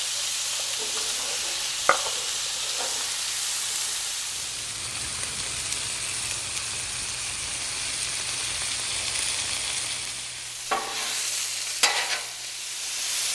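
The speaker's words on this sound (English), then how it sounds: "I'm just going to mix this around on the griddle just for about 5 minutes" Apples fry on a Blackstone griddle with a loud, steady sizzle, broken now and then by a few scraping stirs of a spatula, a faint steady hum underneath.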